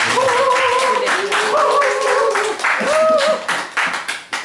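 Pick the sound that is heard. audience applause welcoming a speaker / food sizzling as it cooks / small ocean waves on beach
audience applause welcoming a speaker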